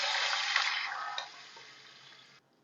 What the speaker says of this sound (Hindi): 4 कप पानी शामिल करूँगी इसमें।